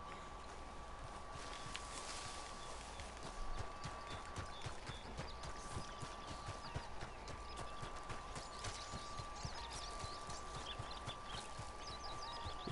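Horse hooves clip-clop in a video game, a steady, even rhythm of light clopping steps at moderate distance over a constant background tone.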